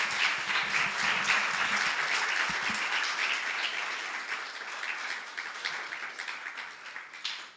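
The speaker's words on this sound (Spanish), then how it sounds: "Denle un aplauso al Señor," Full, continuous applause from a church congregation during a Spanish-language sermon, strong at first and then thinning into scattered claps as it fades toward the end.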